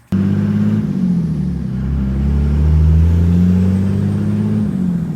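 A Cummins diesel truck engine cranks, fires and settles into a loud, rumbling idle close by, its deep drone rising slightly before steadying.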